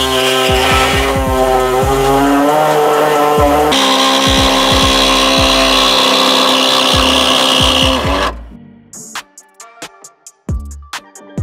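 Steady, loud power-tool cutting into the body panel of an N70 Toyota Hilux, making a 4-inch opening for a snorkel. The continuous whine runs for about eight seconds, then stops, followed by scattered knocks and clanks.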